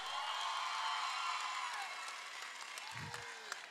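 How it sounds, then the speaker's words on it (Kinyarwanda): Steady applause from a crowd at a gathering for the Intwari grade at a youth village in Rwanda, continuous and moderately loud with a faint voice and a brief low thump near the end. "Amashyi menshi cyane ku ntwari grade."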